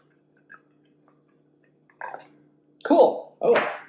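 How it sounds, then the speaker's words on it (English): Canned Hatch Dark coffee, slightly foamy, pours out in two bursts of liquid splashing and glugging, close and fairly loud after a quiet start with a faint click. "Little foamy, but we'll see how it pours out."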